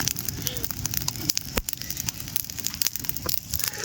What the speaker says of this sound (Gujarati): ભડકો થયો.